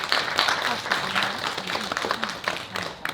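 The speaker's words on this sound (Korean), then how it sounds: "박수로 환영해 주시기 바랍니다." An audience at a public health-promotion forum in Yanggu, Gangwon Province, applauds to welcome a speaker. Dense, continuous clapping fills the whole stretch, with voices audible beneath it.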